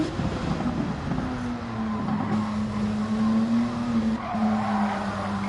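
A Honda NSX GT500 race car with a turbo flat-six brakes hard at Spa in Gran Turismo 7, a steady engine drone with a falling pitch and tire scrub running throughout.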